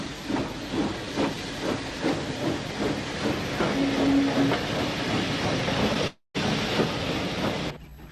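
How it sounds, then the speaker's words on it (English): A heavy goods steam train rumbles and clatters steadily nearby as it arrives at a station, with hissing steam and rhythmic clicking wheels, continuing loud for several seconds after a momentary break. "A heavy goods train from Letterkenny arrives at Strabane."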